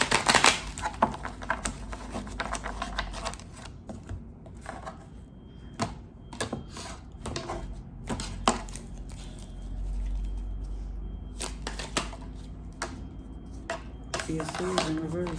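Tarot cards are shuffled in quick, irregular riffling clicks and taps, close and fairly soft, with brief pauses between runs and some faint background murmur.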